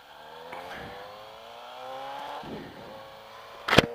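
A 2018 Suzuki GSX-S750 motorcycle with a RadiantCycle GP shorty exhaust revs and accelerates through the gears, rising engine notes close by, ending with a brief sharp burst of noise.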